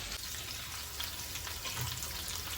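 Dry prawns fry in a pan with a steady, close sizzle and crackle that holds unbroken throughout, with faint stirring scrapes and no talk.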